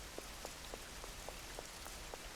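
Faint, even rain patters in the video game Schedule 1, a continuous hiss dotted with soft, regularly spaced drip-like ticks.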